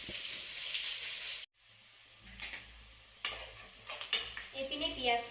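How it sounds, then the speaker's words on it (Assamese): Onions frying in a pan for a home-cooked fish curry, a soft sizzle with occasional stirring scrapes and utensil clinks, broken by a brief cut to near silence before clattering resumes. "এইপিনে পিঁয়াজখিনি ফ্ৰাই হৈ গ'ল"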